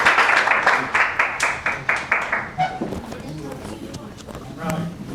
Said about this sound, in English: let's give a round of applause to Rabbi Moshe Finger